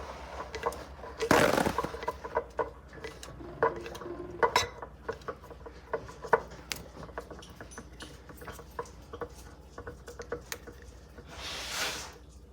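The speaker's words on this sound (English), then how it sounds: "Now I'm going to scrape down the sides of my jar, getting all the good stuff back in" Spatula scraping around the inside of a sourdough starter jar while a rehydrated flake starter is worked, giving a cluster of close, sharp scrapes and clinks followed by lighter intermittent scratches and taps, with no talk.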